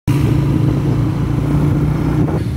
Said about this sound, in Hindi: तो अभी हम लोग चलेंगे अभी बाइक पे